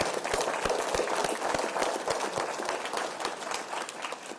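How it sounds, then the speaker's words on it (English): A crowd claps steadily at an NYC DOT State of the Agency event, dense overlapping hand claps at moderate distance, continuing without pause throughout. "Let's give them a loud, big round of applause"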